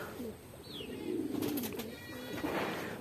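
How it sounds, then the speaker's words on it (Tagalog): Pigeons coo softly in low, rolling calls while circling before landing, with a few faint chirps and outdoor ambience around them. "Ayan mga kalapatids. Muronda na yung mga ibon natin."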